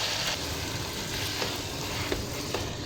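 Mutton keema cooking with spices in a pan, a steady dense sizzle with faint stirring scrapes, continuous and close, no talking.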